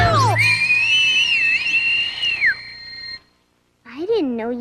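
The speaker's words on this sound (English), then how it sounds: "I didn't know you could whistle that loud" A mother in a Berenstain Bears cartoon gives a loud, sustained human whistle that wavers in pitch for about two seconds, followed by a pause and then a voice speaking.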